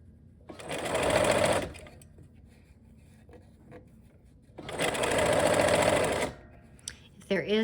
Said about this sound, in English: just taking a couple stitches